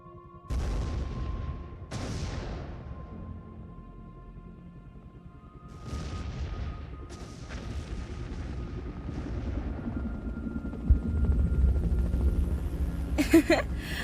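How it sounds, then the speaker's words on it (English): Several deep booming explosions go off one after another at a distance, with a low rumble and crackle in between. "The explosions and the fire are so much fun."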